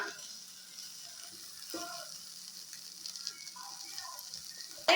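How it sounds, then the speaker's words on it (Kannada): Paneer pepper dry frying in a pan, a soft steady sizzle with occasional stirring scrapes, fairly quiet and close, without talk. "ಒಂದು 5 ಮಿನಿಟ್ಸ್ ಇದನ್ನು ನಾವು ಫ್ರೈ ಮಾಡಿಕೊಂಡ್ರೆ ಪನ್ನೀರ್ ಪೆಪ್ಪರ್ ಡ್ರೈ ರೆಡಿ ಆಗುತ್ತೆ"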